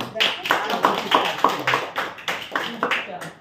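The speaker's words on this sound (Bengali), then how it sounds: "ও আমাদের সঙ্গে অংশগ্রহণ করছে, এর জন্য একটা জোরে হাততালি" A small group claps for a child taking part in a children's programme at a theatre gathering, the rhythmic claps loud and close.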